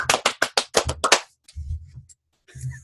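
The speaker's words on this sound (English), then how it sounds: "I can make your hands clap." Several quick hand claps in a rapid burst, followed by quieter thumps and low rustling, with a short pause between.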